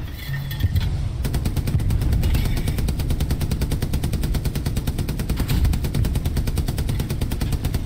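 Sustained rapid machine gun fire from a tank gunner in Hell Let Loose, loud and close, with steady bursts that run almost unbroken throughout.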